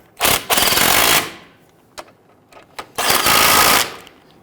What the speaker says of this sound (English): we can switch over to a power tool and zip those right in